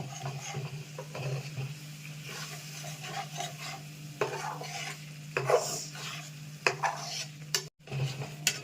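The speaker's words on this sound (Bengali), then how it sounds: "আবার সামান্য জল দেব, আবার আস্তে করে নাড়া দেব" A spoon stirs matar (pea) paneer curry in a pan with a little added water, giving soft scraping and rubbing strokes over a faint simmering sizzle, with a few sharper clinks toward the end.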